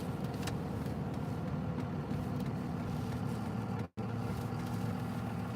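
Steady low engine and road drone heard from inside a moving car, constant and moderate in level, with one brief dropout near the end.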